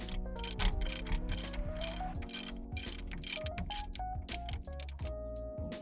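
A ratchet loosens a brake line mounting bolt during a Nismo brake line install, with steady rapid clicking pawl bursts, close up and fairly loud, broken by short pauses and no talking.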